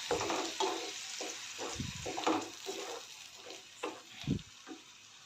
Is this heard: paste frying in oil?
yes